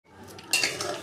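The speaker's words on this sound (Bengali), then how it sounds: "এবার আমি ঢেকে দেবো।" A metal lid clatters onto a cooking pot of potato, fish and lentil-dumpling curry, a single sharp close clank after a brief soft rustle.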